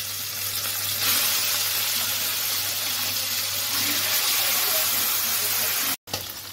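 Fish frying in a pan gives a steady, loud broadband sizzle and hiss with no pauses, cut by one brief silent gap near the end.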